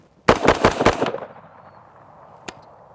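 A shouldered rifle fires a rapid burst of four or five sharp, loud cracks in about a second, followed by a fading outdoor echo and one fainter pop afterward.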